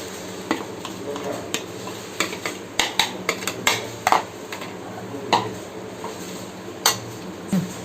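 A spoon stirs a sabudana mixture with curd and groundnut powder in a metal pot, producing a series of sharp scraping clinks at irregular intervals over a soft background sizzle, close and clear.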